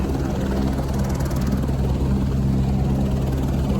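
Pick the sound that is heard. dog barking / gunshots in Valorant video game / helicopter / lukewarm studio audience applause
helicopter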